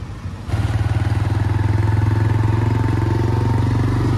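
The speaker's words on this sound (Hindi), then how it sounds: "चलिए चलते हैं बाइक से," A motorcycle engine starts and settles into a steady, close pulsing drone as the bike rides along a road near a bypass flyover construction site, loud and alone.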